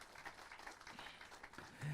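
Applause of gratitude from a church congregation, a dense steady wash of clapping with a louder swell at the end.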